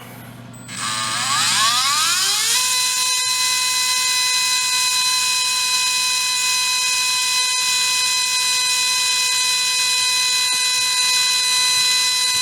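A tuned RC brushless motor spins up with a rising whine over about two seconds, then holds a loud, steady, high-pitched tonal scream near the mic while its RPM is measured, with no talk.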